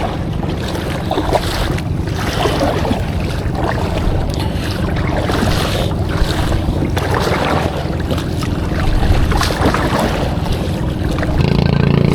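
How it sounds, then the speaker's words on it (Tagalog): Strong wind roars and buffets against the microphone over open sea while kayak fishing off Cebu, with strong current, a constant heavy rush with gusty surges and no talking. "Kusog ang sog, kusog ang hangin."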